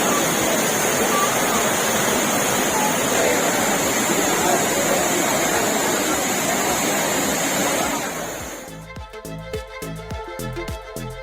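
A main waterfall where crowds of tourists queue to bathe roars steadily and loudly with broad rushing water for several seconds, then drops away as a voice begins talking.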